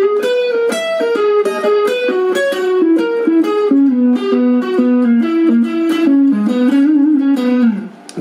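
Distorted electric guitar plays a fast lick from a song intro, a rapid, continuous run of picked notes at steady loudness for about eight seconds, cutting off abruptly at the end.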